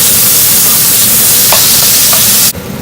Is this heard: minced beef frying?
yes